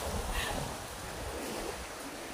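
Wind sweeps over the sea while small waves wash in, a soft and steady surf-and-breeze hiss heard alone at a moderate distance.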